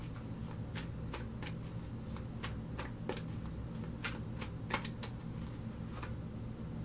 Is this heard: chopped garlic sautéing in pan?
no